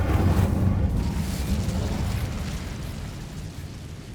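An Incendio fire spell cast in Hogwarts Legacy lets out a loud fiery whoosh and blast at the start, then fades into a long rumbling roar.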